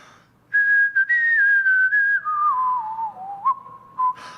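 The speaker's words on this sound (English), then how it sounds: "And the fellow whistled." A single person whistles a clear, sustained melody, the pitch gliding slowly downward through the phrase, close and loud with no talking.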